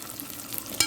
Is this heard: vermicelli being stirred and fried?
yes